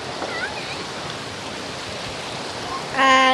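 Floodwater rushing through a village stream after a cyclone in Tamil Nadu, a steady broadband wash of flowing water, close and continuous, with faint voices and a brief louder tonal burst near the end.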